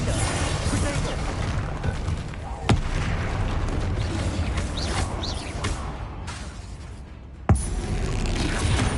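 Spell blasts like Bombarda and Confringo in Hogwarts Legacy land as two sharp booming cracks several seconds apart over a steady dense rumble of combat noise.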